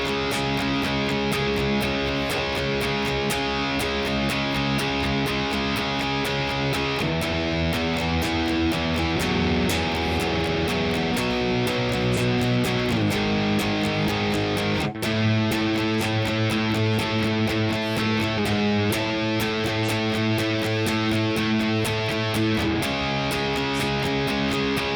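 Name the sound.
distorted electric guitar playing a verse riff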